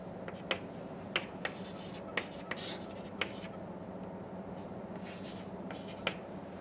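Faint pen or chalk strokes scratching during a physics lecture on magnetic moments, a string of short taps and rubs at an irregular rhythm over a steady low room hum, no talk.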